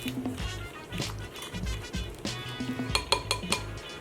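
Melted butter mixed with garlic powder in a small bowl, a utensil clinking and scraping in quick, light strokes, close and fairly quiet, with a faint low hum underneath.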